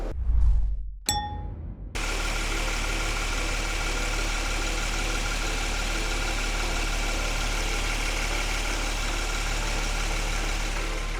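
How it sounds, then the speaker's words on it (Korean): A Genesis EQ900 3.3 turbo engine starts and then idles with a steady, low, even hum, preceded by a few chimes. "엔진 소리 한번 들어보도록 하겠습니다"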